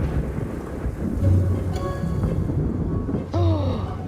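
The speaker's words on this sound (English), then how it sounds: "Thunder." Thunder rumbles through a storm on a remote island, heavy and close over steady rain, with a couple of brighter crackling swells; no talk.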